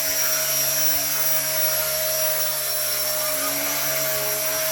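A small RC ERA 1/48 scale Huey model helicopter hovers while carrying a slung cargo load, giving a steady, high electric whine with a constant rotor buzz, close and unbroken, with no voices.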